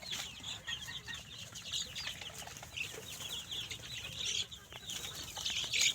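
Chicks and chickens on a farm, a steady chorus of high cheeping and clucking running throughout at moderate distance, with scattered sharper peeps rising above the flock.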